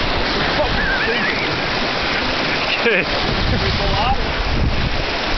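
Cold water sloshes and splashes in and around a small boat, a continuous rushing wash with heavy wind buffeting the microphone, and someone briefly speaks partway through.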